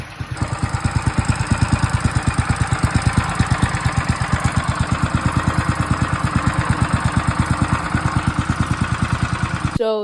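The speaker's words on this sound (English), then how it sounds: "It's the next day and I just got the engine started." A vintage mini bike's small engine runs steadily just after starting, a close, loud putter of rapid regular firing pulses that holds an even idle rhythm, then stops abruptly at the end.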